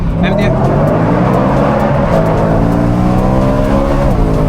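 A 450bhp E92 BMW M3 engine revs hard from inside the car, a loud, close, continuous roar whose pitch climbs and swells across the whole stretch.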